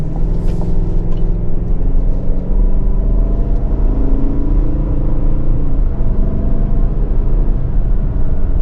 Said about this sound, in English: you can hear the shifts going in through the transmission